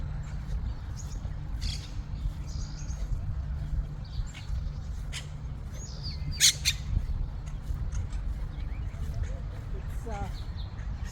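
A parrot in a Jerusalem park gives several sharp squawks, loudest one midway, amid chirping birds and low city rumble, with people talking nearby.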